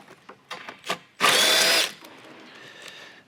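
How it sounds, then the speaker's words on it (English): A power drill removing bolts on a XERO Pure Plus whirs loudly in one short burst, preceded by a few light mechanical clicks and taps. "I'm going to go ahead and use my drill here."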